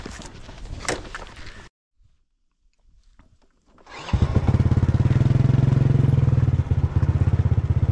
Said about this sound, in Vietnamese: Ở đây mình sẽ kéo bằng xe máy anh em ạ.